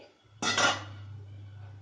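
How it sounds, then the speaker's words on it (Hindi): A knife pokes steamed khaman dhokla in a metal steaming pot, giving a single short metallic clink followed by a low, steady hum. "इसको किसी नाइफ से चेक कर लें।"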